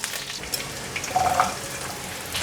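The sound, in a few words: stir-frying carrots and beets with mushrooms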